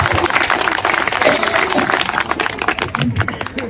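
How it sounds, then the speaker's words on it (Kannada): Audience applause from a crowd of workers at a live comedy show in Karnataka, dense sustained clapping throughout at steady loudness. "ಈಗ ಒಂದು ಚಪ್ಪಾಳೆ ಹೊಡೆ"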